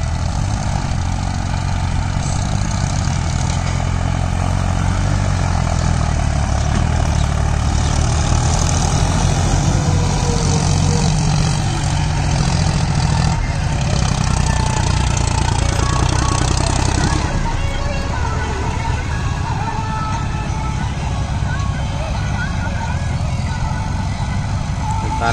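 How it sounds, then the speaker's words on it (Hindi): A New Holland 3630 tractor digging a pond runs as a loud, steady diesel rumble with a rough, hammering texture that continues without a break, close by and with no talk over it. "तालाब की खुदाई की चल रही है अभी। देखो ये भी ट्रैक्टर न्यू हॉलैंड है 3630।"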